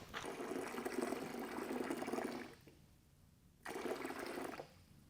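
Cold water pouring into a container for a GFRC concrete countertop mix, a steady broadband splash for about two and a half seconds, a pause, then another shorter pour, close and moderately loud with no talking.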